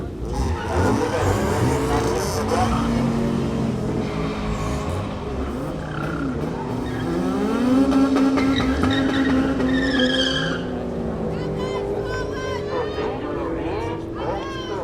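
Mk1 and BMW cars roar down a quarter-mile drag strip at Killarney, heard from inside the car as the engine revs rise and shift with tire squeal, loud and close, while people talk over it.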